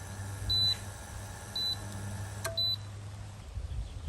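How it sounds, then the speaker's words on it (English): A WMF Kult induction hob, used outdoors in nature, gives three short, clear high-pitched electronic beeps, spaced about a second apart, over faint low background hum. "Wonder why it makes the beeping sounds."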